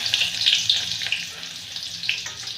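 Mustard seeds and cumin sizzle in hot oil with a faint crackling hiss and small pops, fairly quiet and fading slightly over a couple of seconds.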